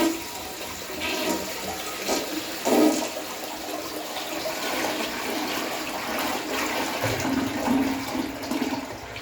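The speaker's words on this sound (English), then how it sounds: "So I guess I'll go ahead and give this a flush too." A 1937 Standard 4050 toilet flushes up close, a rushing gush of water swirling steadily through the bowl for several seconds with no talking over it.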